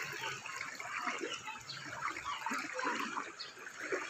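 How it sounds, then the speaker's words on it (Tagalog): Strong floodwater rushes through a barangay in Talomo, a constant turbulent roar and splash heard up close at low level without letup. "Uy, kasulog sa tubig, uy."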